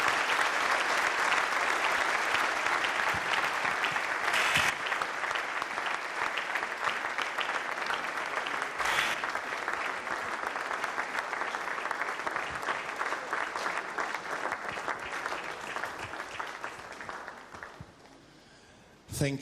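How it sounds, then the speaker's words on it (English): Audience applause at the Agenda Nigeria 2.0 event, a dense, steady wash of clapping lasting most of the clip, briefly swelling and then fading toward the end. "Please, can we give him a round of applause again?"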